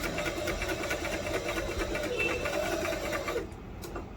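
A brand-new Singer automatic sewing machine running in a continuous close mechanical whir with a rapid regular stitching pulse, stopping near the end.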